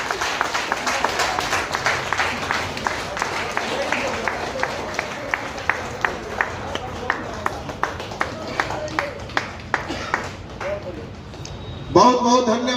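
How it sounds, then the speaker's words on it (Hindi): Audience applause welcoming Surabhi Yadav at a Janshakti Janata Dal political event, a sustained burst of rhythmic clapping that fades near the end as loud talk cuts in. "आप लोग ताली बजाकर इनका स्वागत करें"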